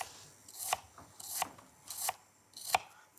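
A knife chops through a shallot on a cutting board in four crisp, evenly spaced strokes, each a sharp close thud with a brief scraping edge, and the gaps between are quiet.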